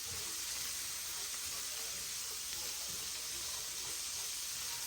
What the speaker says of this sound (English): So I'm also going to stir fry the vegetables for 2 to 3 minutes.